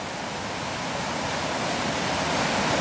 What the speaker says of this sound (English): You can hear the river on our right-hand side.